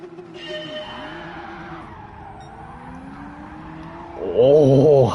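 A Gr.3 race car in Gran Turismo 7 launches hard off the grid at an online race. The engine drones and climbs in pitch, then surges into a loud, rising high-revving howl near the end, with no talk over it.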